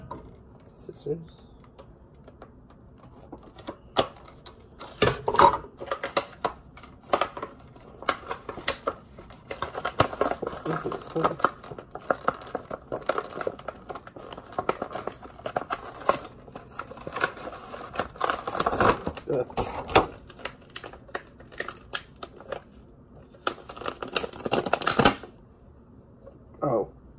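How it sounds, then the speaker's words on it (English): Irregular snipping and crinkling close by, like scissors working through plastic packaging, in scattered bursts with brief pauses and occasional talk. "Scissors."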